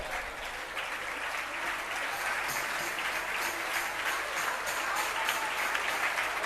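Sustained audience applause at a religious ceremony in Dongargarh, Chhattisgarh: many hands clapping steadily at moderate volume, heard from somewhat far off and continuing unbroken throughout.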